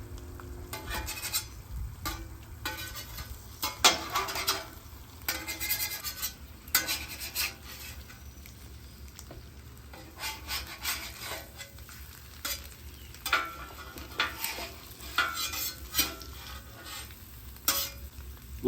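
Eggs sizzle steadily on a Weber Traveler 22-inch portable gas griddle, a continuous crackling fry with scattered scraping and clatter, no voices.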